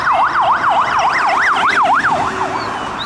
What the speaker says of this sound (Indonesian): Wah, ada mobil ambulans